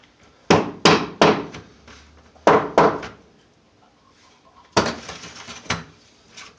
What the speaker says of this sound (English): Closing the tank, the can of body filler this time.